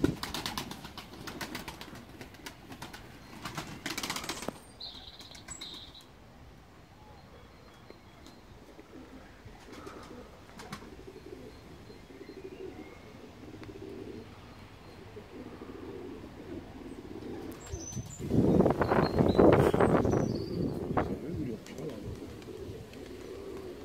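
Pigeons in a backyard coop in Germany, with soft cooing through most of the stretch and a loud burst of wing flapping near the end as a bird takes off, while people talk in the background.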